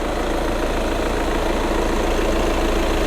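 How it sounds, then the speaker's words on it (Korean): A Volkswagen CC 2.0 TDI diesel engine idles steadily up close, a constant low rumble with an even mechanical tick and no talking. "엔진 소리도 일정합니다"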